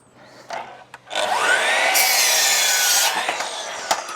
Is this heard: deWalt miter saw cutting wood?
yes